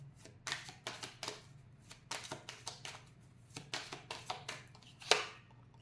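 Tarot card deck cut and shuffled by hand, close and crisp: a rapid run of papery riffles and taps in uneven bursts, ending with one sharper slap.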